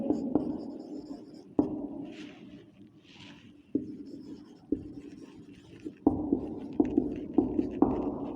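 A marker writes on a board in a quiet room, giving steady scratching strokes broken by sharp taps as it touches down, with no speech.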